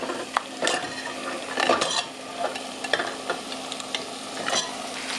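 Crab pieces going into a pot of sticky Caribbean seasoning marinade with garlic for Tobago curry crab, a close, busy mix of sizzling, stirring scrapes and clinks of a spoon against the pot, with no talk.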